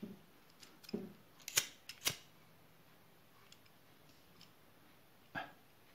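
Small scissors snip fishing line while a feeder link is finished, giving a few quiet, sharp clicks clustered near the start and one more later, close and isolated in a quiet room.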